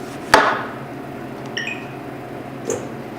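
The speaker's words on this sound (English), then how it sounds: "we're going to begin by trimming the ends off of your eggplant" A knife trims the ends off an eggplant on a cutting board: one sharp, loud chop early on, then a lighter tap and a faint knock, all close and with no talking.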